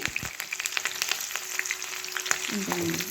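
Four chopped green chillies fry in hot oil in a pan, ahead of curry leaves, for ivy gourd pakodi: a steady, bright crackling sizzle with scattered sharp pops and a few soft stirring clicks, close and without speech.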